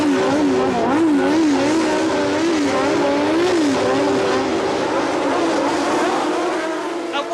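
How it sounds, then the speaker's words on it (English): Formula One race cars pulling away from the start of the British Grand Prix at Silverstone, a continuous loud blend of screaming engines rising and wavering in pitch, with a commentator talking over the roar. "Away they go. It's a superb start, and straight into the lead goes John Watson in the Martini Brabham"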